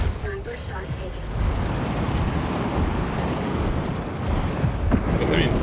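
A sniper shot in the War Robots: Frontiers video game comes as a heavy boom amid a dense, roaring battle rumble, with a voice speaking over it.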